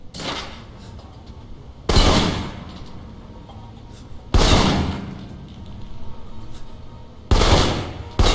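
Assault rifle bursts in the Alpha Protocol video game, with three or four loud, sharp volleys spaced a couple of seconds apart over a low ambient game background, without talk.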